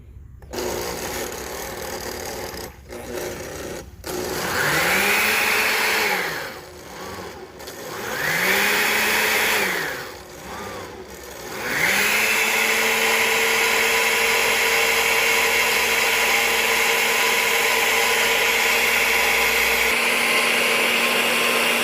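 A blender mixes honeybee feed stimulant in a quart mason jar. Its motor whines up in a few short bursts, then settles into a loud, steady whirr that carries on alone.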